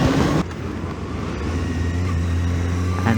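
A Honda Hornet 600F motorcycle cruising along a coastal gravel trail at a steady pace, its engine a continuous low drone mixed with wind and road rumble, loud and close, with no talking.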